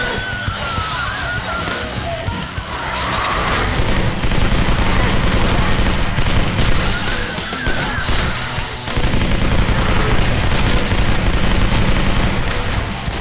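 Sustained heavy gunfire in the video game Legendary, dense overlapping volleys and explosions rolling on continuously for the whole stretch, loud and close, with faint talk beneath.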